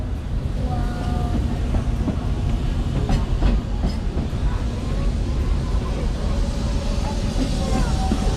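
The Walt Disney World Railroad train runs with a loud, continuous rumble and rhythmic clickety-clack on the rails, heard up close as if from aboard.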